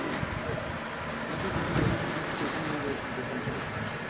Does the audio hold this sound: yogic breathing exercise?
no